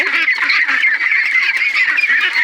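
Farm ducks call continuously in a dense, overlapping flock chorus, loud and close, with no talking over the steady honking.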